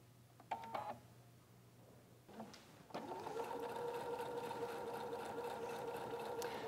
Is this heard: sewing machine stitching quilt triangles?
yes